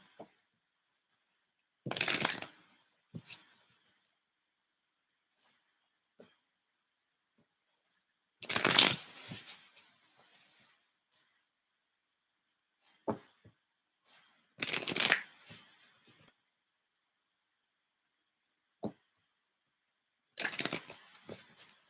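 Tarot cards riffle-shuffled by hand during a general reading, heard as about five crisp, papery bursts spaced a few seconds apart, with soft taps and quiet gaps between them and no talking.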